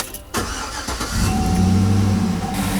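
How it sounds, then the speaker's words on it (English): A warmed-up Chevy Tahoe 4.8L LS engine runs close by with a rough, steady drone and an underlying metal-on-metal knock from underneath the engine. "now you can definitely hear metal on metal underneath the engine when it's warmed up a little bit."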